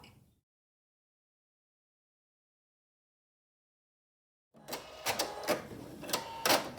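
After a long silence, a sewing machine whirs in short, rapid bursts as it stitches quilt block pieces for a Broken Wheel block, fairly close and with brief pauses between runs.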